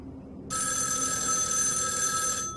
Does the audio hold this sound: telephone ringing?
yes